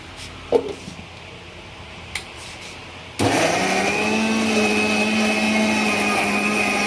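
An electric mixer grinder whirs loud and steady as it blends garlic, onion, raw mango and chili into paste, starting abruptly after a few quiet clinks and running continuously to the end.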